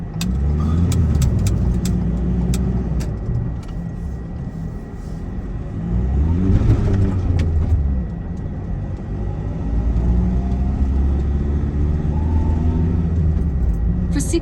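A car drives along a winter road in Norway, its low engine and tyre rumble steady and close inside the cabin, the engine note rising and falling gently at times, with faint clicks and a voice briefly audible.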